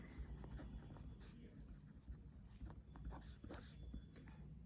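A pen scratches across paper in short quick strokes while a math lesson on coordinate geometry is worked out, quiet and close with faint background sounds.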